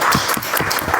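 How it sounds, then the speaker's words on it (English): Brief burst of audience applause at a Toastmasters-style club meeting, many hands clapping steadily and fairly loud, welcoming a table topics speaker to the front. "With a better round of applause, let's welcome our second table topic speaker."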